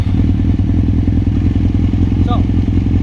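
A Suzuki GSX-R750 sport bike engine runs steadily after starting warm, a loud, close, even throb with a brief higher whine near the end.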